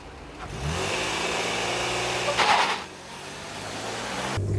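A 2015 Toyota Sienna minivan accelerating hard on a test track, a loud mid-pitched engine roar rising steadily with a brief surge in the middle, heard from inside the cabin.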